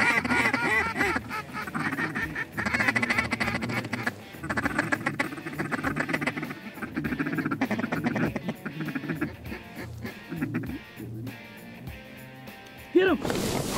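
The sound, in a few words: mallard ducks quacking over a field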